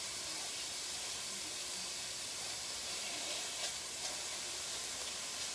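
Meat searing in a hot non-stick pan gives a steady, even sizzle and hiss throughout, fairly quiet, with no talking.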